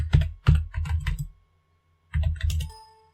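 Password being typed on a computer keyboard at a MySQL login prompt, two quick bursts of close, sharp key clicks separated by a brief pause.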